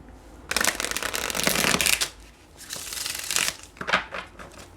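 Tarot cards being shuffled nearby in a few quick riffling bursts, a long one first, then shorter ones with brief pauses between.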